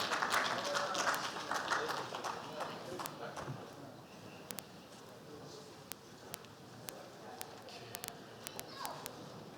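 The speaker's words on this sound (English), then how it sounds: "Please, a round of applause for him." An audience at a conference on infrastructure, trade and investment applauds, with dense clapping that is loudest at the start and thins to scattered claps, heard from within the room.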